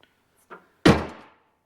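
Rear door of a Jeep Wrangler JK swung shut after body repair with the weather seal refitted, a soft latch click followed by one solid, close thunk that fades quickly, with no voices.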